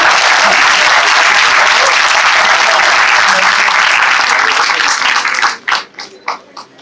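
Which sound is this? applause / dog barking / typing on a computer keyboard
applause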